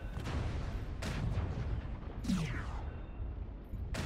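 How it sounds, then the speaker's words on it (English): Siege cannon shots in MechWarrior Online from a Cataphract 1X mech, several sharp booming blasts spaced about a second apart, each with a rumbling tail over a low continuous mech hum. "I'm just siege firing in his general direction"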